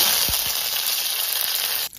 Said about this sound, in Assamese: তেল গৰম হ'ল এতিয়া নৰসিংহ পাত দিম